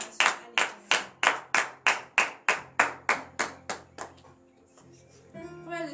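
A church congregation at a morning prayer service claps in unison, about a dozen sharp, evenly spaced claps that fade out, followed by a short musical or vocal tone near the end.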